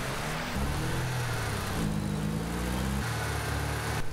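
A Rocket League car driving across a snowy map, its engine holding a steady buzzing tone that shifts pitch in steps as it accelerates and jumps, loud and continuous throughout.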